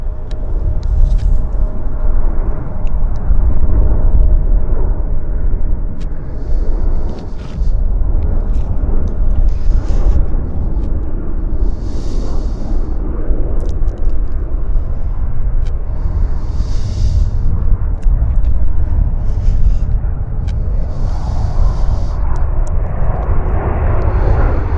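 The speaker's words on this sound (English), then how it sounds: "now we've got aircraft on approach" An airliner on final approach to land at Vancouver YVR roars loudly and steadily for the whole stretch, a broad continuous engine rumble with no voices.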